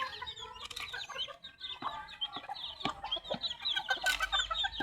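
Backyard chickens and young chicks cluck and peep in repeated short bursts at close range, a busy overlapping flock chatter with no one talking.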